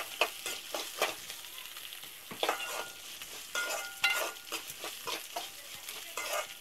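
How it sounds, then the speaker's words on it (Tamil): Chopped onions sauté in a pan for a Tamil home-cooked carrot poriyal, with a steady soft sizzle and repeated scraping stir strokes from a spoon, close and clear with no talking. "அண்ட் இப்போ வெங்காயம் நல்லா வதங்கட்டும்."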